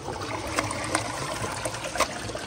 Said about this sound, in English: y'all can actually see water coming out from in the trapway